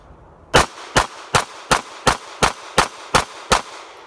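An Avidity Arms PD10 pistol fires nine sharp, loud shots in a quick, evenly spaced string during testing, each a crisp crack with a short tail, with no talk.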